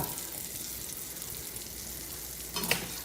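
Butter and extra virgin olive oil sizzle steadily in a hot pan at high heat, a continuous close frying hiss with a brief louder scrape or stir near the end.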